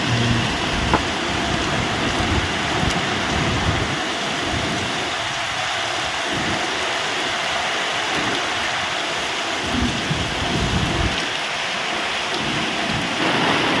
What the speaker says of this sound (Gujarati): આજે જોરદાર વરસાદ ચાલુ થઈ ગયો મસ્ત મસ્ત મજાનો જોરદાર વરસાદ